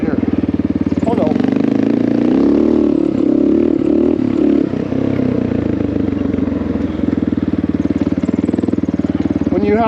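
An old-school Honda XR650L with a big carburetor and air filter thumps steadily up close, its single-cylinder engine pulsing loudly throughout while someone talks over it.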